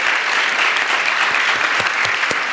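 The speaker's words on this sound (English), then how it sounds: "it's just a kid still applauding" Audience applause at a university event in Berkeley, a steady dense patter of many hands clapping at close range, with a few sharper individual claps standing out near the end.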